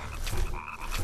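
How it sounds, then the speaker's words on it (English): Frogs croak continuously in a level of the game Oogie's Revenge, a dense, close chorus of low rasping ribbits layered over a steady ambient hum. "there's frogs all up in here protected by an electric barrier"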